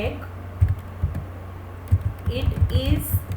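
Typing on a computer keyboard during a C++ programming lesson, a scattering of soft close key clicks in irregular bursts, growing busier toward the end.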